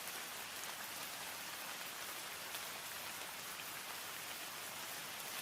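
Steady rain falls in a dense, even hiss, soft and continuous with no breaks or voices.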